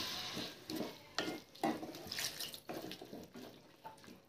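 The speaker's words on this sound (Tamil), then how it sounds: "இப்போ வந்து கொஞ்சமாக தண்ணி சேர்த்துப்போம்." Water poured into a hot frying pan of cooking broad beans, splashing and sizzling, with irregular bursts of hissing and stirring clatter, fairly quiet and close.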